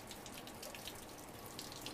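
Water runs steadily from a tap while arms are wetted for a surgical scrub, a soft continuous splashing stream at moderate distance with no talk.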